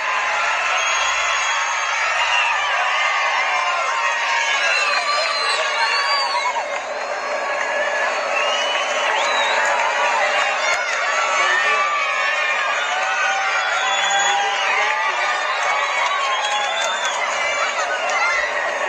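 A large tumultuous crowd cheers and whoops continuously to welcome passing bike riders, a dense roar of many voices with children shouting throughout.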